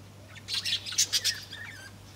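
Parrots chirp and squawk in a quick burst of several sharp, bright calls, moderately faint outdoors over a low steady hum, with no talking.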